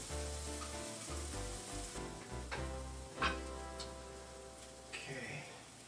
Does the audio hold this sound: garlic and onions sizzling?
yes